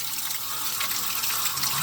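Water drains and splashes out of the inner part of a faulty pipe, a steady, close, rushing gush with no talk over it.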